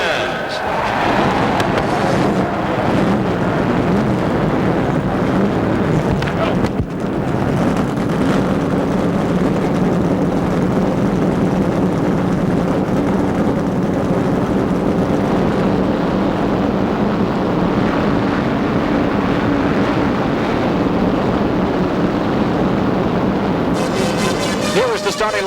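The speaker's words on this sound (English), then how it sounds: "Gentlemen, start your engines." A massed field of stock cars fires up at the 1988 Daytona 500, a loud, continuous engine roar filling the whole stretch, with a voice speaking faintly beneath it.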